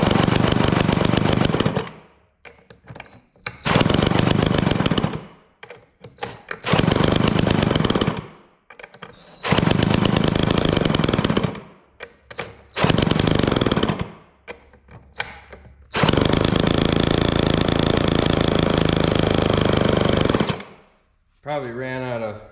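A vintage Homelite Zip chainsaw engine, stuck and being spun by a drill on the clutch side, roars and pops in loud repeated bursts of several seconds each, separated by short quiet gaps, close by.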